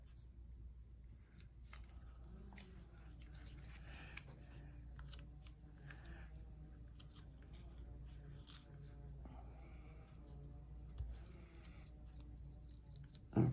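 Scissors fussy-cut a small paper tag at a craft table, faint soft snips and paper rustles spread across a quiet, low room hum.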